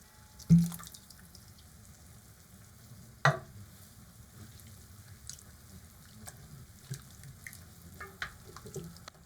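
A wooden spoon scrapes the bottom of a pan while lamb stew cooks, giving a few brief scraping strokes over a soft steady sizzle, with the loudest scrapes near the start and a second one shortly after.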